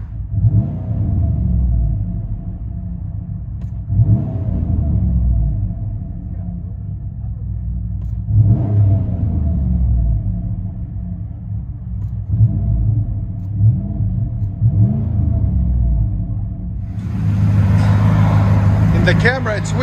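Cabin view of a 2015 Chevy Silverado with the 6.2-liter V8 and Flowmaster 40 series dual exhaust with 4-inch tips, a steady low rumble with several swelling revs, loud and close throughout, with a rougher surge near the end.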